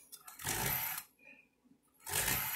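A kitchen knife drawn through a small handheld knife sharpener, two separate gritty rasping pulls, each about half a second long, with a short quiet gap between them. Close by and fairly clear.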